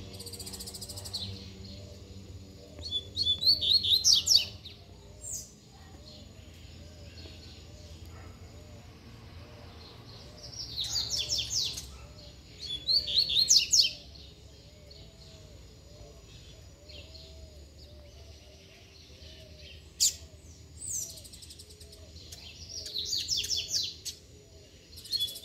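Female songbird, likely a finch, calling in short bursts of high chirps and tweets around 4, 11–14 and 20–25 seconds, against steady insect and cricket background noise.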